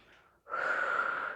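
During a lunchtime workout class, one calm, breathy exhale follows a faint short intake, close and quiet.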